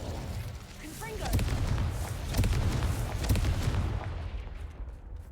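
Booming blasts from the Confringo explosive spell in a Harry Potter video game, several heavy deep bursts in a row over a rumbling game soundscape.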